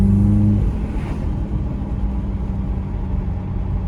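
Idling Toyota Supra 2.0 with an aFe Power Takeda exhaust, giving a steady, fairly quiet low rumble with a slight dip in level at the start and no revving.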